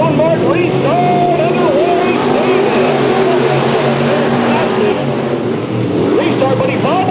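Race cars roar on a restart at Bakersfield Speedway, their engines loud and continuous with shifting, rising pitch. A commentator talks over the engines throughout.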